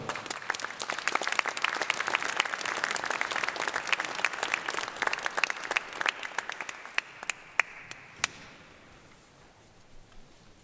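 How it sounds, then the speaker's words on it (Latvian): Audience applause fills a hall after a choir's Christmas concert, dense sustained clapping that thins out and fades to scattered claps near the end. "Ar aplausiem!"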